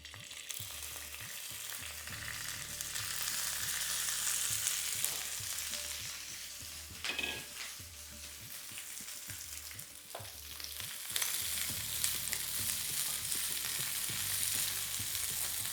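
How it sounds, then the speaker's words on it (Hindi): Continuous sizzling of food frying in hot peanut oil over high flame, with occasional stirring scrapes and small surges in intensity. "और मूंगफली का तेल में सेक रही हूँ।"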